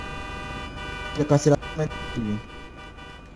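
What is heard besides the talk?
car horn honking in the video game GTA 5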